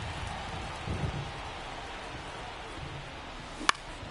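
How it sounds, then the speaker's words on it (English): Steady rain pours over a baseball field in MLB 24, a dense, even hiss across the whole stretch with a brief louder patter burst near the end, no voices. "the field's not going to be able to hold up if the rain gets any worse than this"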